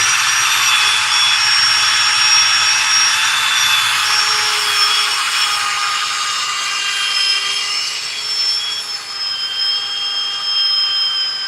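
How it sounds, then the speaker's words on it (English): A power sander whines steadily over a glued wood piece, a loud, continuous high-pitched motor drone with a hissing grind that holds for the whole stretch, close up and without talk. "Let's sand this thing up."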